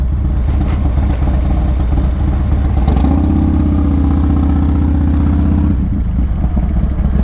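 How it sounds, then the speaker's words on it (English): A Yamaha MT-09 SP motorcycle's exhaust rumbles at idle close by, then swells into a steadier, louder drone for a few seconds before settling back to a rough, throaty idle. "It's so weird hearing my exhaust in your mic."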